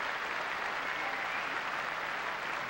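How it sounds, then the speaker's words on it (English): Tennis crowd at the 1997 Roland Garros first-round match between Hingis and Nagyova gives a sustained round of applause, a dense, even wash of clapping from a large stadium audience at moderate level. "she's getting a healthy round of applause"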